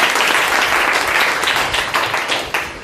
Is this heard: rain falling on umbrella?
no